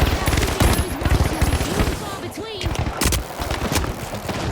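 Gunfire in The Finals: continuous rapid automatic shots in dense bursts, loud and close, with a brief lull near the middle. Voices talk over the shooting.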